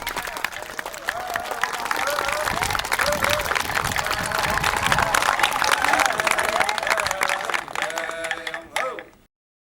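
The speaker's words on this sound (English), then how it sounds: "Let's give him one more round of applause" A large audience applauds steadily for several seconds after a play, dense clapping with scattered cheers, before the sound cuts off abruptly.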